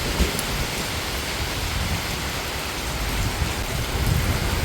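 Heavy rain pours steadily during Typhoon Enteng in Infanta, a dense, unbroken hiss of downpour on surfaces with wind mixed in, loud and close throughout.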